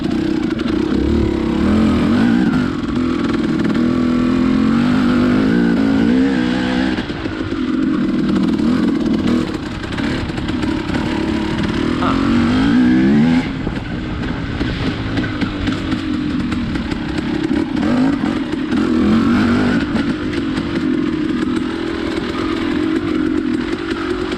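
A KTM 300 Enduro two-stroke motorcycle is ridden, its buzzy, raspy engine rising and falling with the throttle throughout, loud and steady with no talking.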